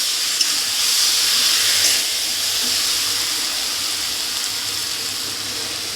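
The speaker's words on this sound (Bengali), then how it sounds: "আমি জল দিয়ে দেব।" Water poured into a hot pan of fish curry, a loud, continuous hiss and sizzle that holds steady for several seconds with no talking.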